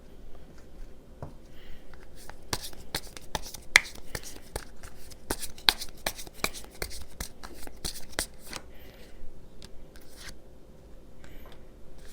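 Tarot cards shuffled by hand make a run of sharp, rhythmic riffling clicks and snaps, close and crisp, thinning out toward the end with quiet gaps between.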